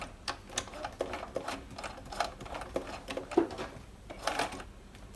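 Bernina 1130 sewing machine running a twin-needle zigzag stitch, short bursts of rapid mechanical clatter separated by brief pauses and clicks, close and clear with no voices.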